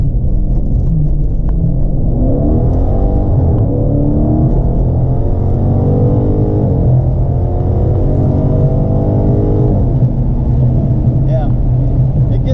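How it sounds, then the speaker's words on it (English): A Dodge Challenger with active exhaust, heard while driving: a loud, continuous low exhaust rumble with rising and falling revs throughout. "it's got like the active exhaust, so it opens up and it sounds really pretty good"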